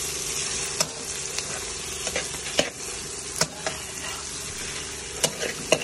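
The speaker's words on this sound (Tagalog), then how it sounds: "Haluin na po natin ng mabuti hanggang sa well distributed na po ang ating chicken breast at ang ating ginisang bagoong kanina." Chicken breast with sautéed shrimp paste stirred in a pan while making Indonesian fried rice: a constant close sizzle with scattered scraping and clinking strokes of the utensil, no voices.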